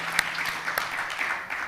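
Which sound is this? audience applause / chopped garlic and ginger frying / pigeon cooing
audience applause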